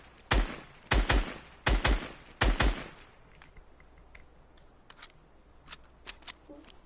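Assault rifle fire in Fortnite comes in four quick bursts of two or three sharp cracks each, loud and close, followed by fainter scattered shots and clicks.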